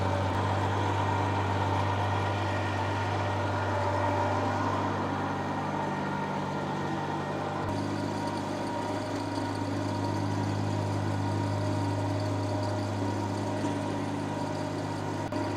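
A tractor engine runs steadily nearby, driving a PTO-powered seeder, a loud continuous mechanical drone with a constant low hum and rattle that shifts slightly partway through as the throttle changes.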